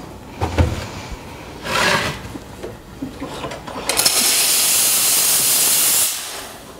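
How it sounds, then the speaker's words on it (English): A loud, steady hiss of an espresso machine steam wand purging for about two seconds, preceded by a few short bursts and clunks of handling. "I'm purging the steam wand to make sure we don't have any excess water."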